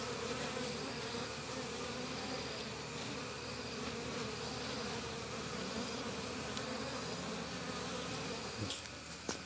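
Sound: domestic honey bees buzzing around hive

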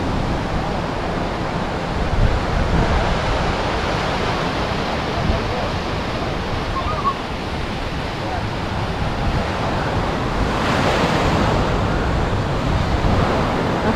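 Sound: waves on a beach in Lombok

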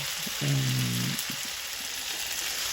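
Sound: chicken sizzling and being stirred in pan

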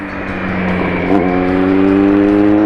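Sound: motorcycle exhaust roaring

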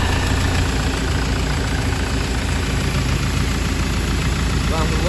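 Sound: 2015 Ford Transit engine idling

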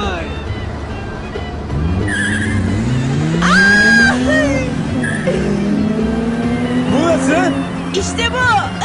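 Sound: car engine revving while driving

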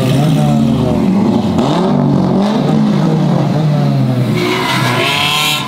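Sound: Honda car engine revving

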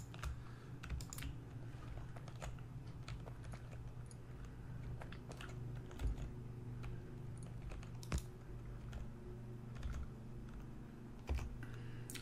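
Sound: typing on computer keyboard

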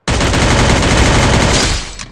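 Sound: gunshot in the video game Free Fire

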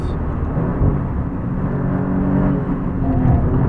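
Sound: McLaren car driving a hot lap on the Vegas F1 track

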